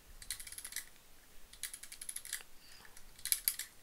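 A vintage mechanical travel alarm clock being wound by hand, with quiet, rapid ratcheting clicks in short bursts, close and faint.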